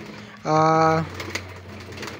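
A single pigeon coo, a short harmonic hum rising clearly, followed by quiet background rustle.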